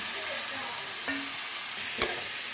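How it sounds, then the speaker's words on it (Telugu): A spoon stirs boiled cauliflower into a sizzling onion-based curry in a pan, a close steady frying hiss with a scrape or two and one sharp clack of utensil on metal. "ఉడకబెట్టిన కాలీఫ్లవర్ తీసుకుని ఇలా కలుపుకోవాలి."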